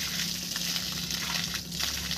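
A pump drains water from a strong, newly dug well in the village of Smirnenski, producing a steady, loud rush of gushing water over a low, constant motor hum.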